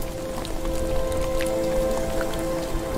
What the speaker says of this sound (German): Das Gewitter signalisiert den Beginn der Regenzeit.